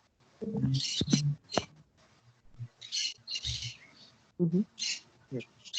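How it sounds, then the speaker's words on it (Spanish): Pet parakeet giving a run of harsh, gremlin-like squawks and chattering calls, several bursts close by with brief pauses between them, no talking over it. "Es un perico."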